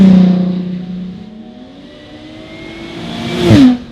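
A Jaguar F-Type Coupe V6 S rumbles close by at a low idle-like burble, then revs sharply near the end in a rising, rasping exhaust blare that peaks and quickly falls away.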